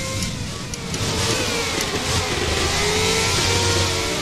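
Formula 1 car in the F1 2020 video game accelerating with a sustained, loud engine whine that holds steady and builds slightly over several seconds, heard alone.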